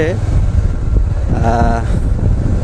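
Motorbike ride along a village road with heavy wind buffeting the microphone, a constant rumbling roar under brief talking voices.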